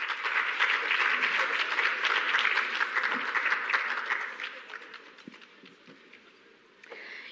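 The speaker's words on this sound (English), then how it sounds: "A round of applause" Audience applause fills a climate resilience symposium hall, a dense, steady wash of many hands clapping that holds strong for several seconds, then thins and fades toward the end.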